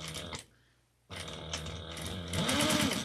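A sewing machine runs in short bursts while top stitching an eighth of an inch from the edge, a steady mechanical whir that pauses briefly, then resumes and grows louder toward the end.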